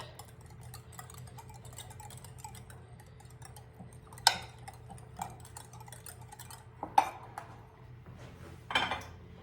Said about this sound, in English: let's whisk this all up